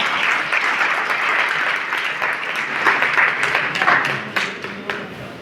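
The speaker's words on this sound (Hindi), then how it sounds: "तालियों के साथ स्वागत हो इनका।" Loud, steady applause from a large audience welcoming school staff onto the stage at a New Year 2023 function, dense clapping filling the whole stretch with a few sharper claps near the end.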